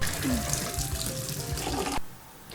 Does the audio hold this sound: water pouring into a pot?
yes